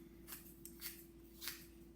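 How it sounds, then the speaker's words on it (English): Scissors snip through paper for a craft project, a few short crisp cuts spaced about half a second apart, faint and close against a steady low hum. "cut a piece of paper that fits there"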